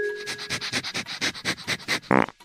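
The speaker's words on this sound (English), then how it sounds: "they sniff each other's butts" Rapid, rhythmic sniffing from a dog's nose right up close, a dozen quick snuffles in a row ending with a short snort.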